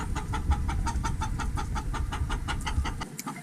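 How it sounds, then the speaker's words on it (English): Hens cluck in a quick, steady rhythm close by, a winter flock of one rooster and fourteen hens murmuring and clucking together in 16°F cold. "I've got 1 rooster and 14 hens."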